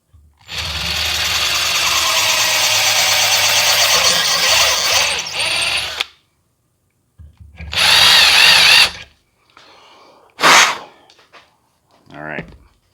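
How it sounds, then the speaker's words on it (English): Power drill with a bigger bit drilling into a Ford Flex, a loud whirring run of about six seconds followed by several shorter bursts with pauses between. "which means we need a bigger drill bit"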